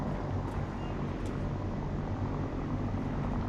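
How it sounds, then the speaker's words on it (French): A helicopter in the video game Fallout drones steadily with a dense, rumbling rotor wash that holds at an even level throughout, fairly loud and without any voices. "bon, ça c'est un hélico."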